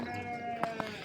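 Large sheep bleat at a Saturday village livestock market near Madanapalle, with two short close bleats over a quiet background hum.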